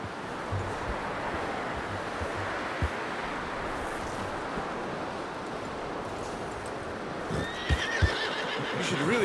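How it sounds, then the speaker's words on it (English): A horse whinnies near the end over a steady rushing wind-like background, with a few soft hoof clops scattered throughout, in the video game Red Dead Redemption 2. "You should really tether that horse, Arthur."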